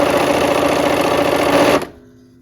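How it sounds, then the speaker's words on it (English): A sewing machine stitches fabric with a quarter-inch seam, a steady close whirring run that stops abruptly near the end, leaving near silence. "we're gonna go ahead and sew these on"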